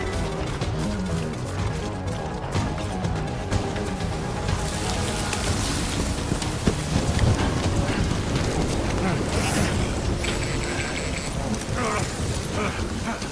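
Steady rain pours down on surfaces in Death Stranding, a continuous dense hiss with scattered heavier drops and occasional knocks, constant and fairly loud throughout.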